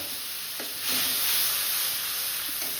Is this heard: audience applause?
no